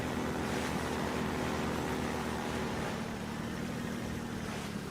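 A small jet-powered car from Half-Life 2 drives along, a loud continuous rushing engine drone with a rumbling low end that holds steady throughout and has no talk over it.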